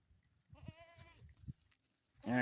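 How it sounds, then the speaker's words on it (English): Goats feeding face-deep in their food let out a clear, wavering bleat at mid-distance, then a second louder, closer bleat near the end, with soft rustling and munching between. "Goofy goats."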